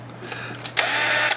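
A power drill bores a hole in a connector box. A few faint clicks and bumps come first, then a close, steady whirring burst lasting about half a second.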